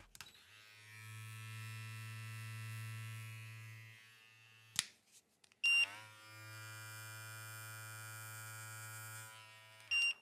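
Two hair clippers, a BeardScape v2 and a Babyliss FX3, run one after the other, each a steady, close electric buzz lasting several seconds, with clicks as they switch on and off.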